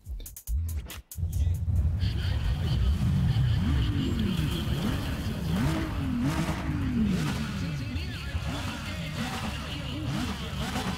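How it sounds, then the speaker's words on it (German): Audi R8 engine during a grip race in Need for Speed ProStreet: after a brief start, the engine revs up and shifts repeatedly in rising sweeps, loud and continuous, with tire noise and someone talking at times. "So, dann fahren wir mal das normale Griprennen im R8."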